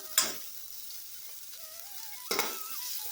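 Spring onion, green chilli, carrot and capsicum sauté in butter in a pan, a low steady sizzle with two louder bursts of hiss as pieces are stirred or added, no voices over it.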